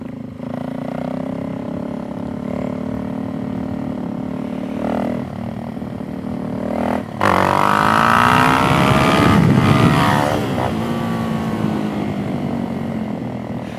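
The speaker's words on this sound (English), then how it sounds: "there's definitely a change in the dynamic of this" A Suzuki DRZ 400SM with big-bore stroker upgrades drones steadily while ridden, then rises into a loud, hard rev with sweeping pitch as it pulls and settles back to a strong cruising note, with no talking.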